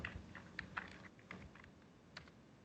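Faint computer keyboard keystrokes tap in a sparse, uneven run, quiet and close with no voices.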